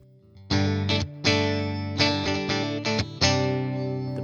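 Fender Johnny Marr Jaguar electric guitar on both pickups with the bright switch engaged, strummed chords ringing out in several loud bursts with brief gaps, distortion and effects audible, no talking.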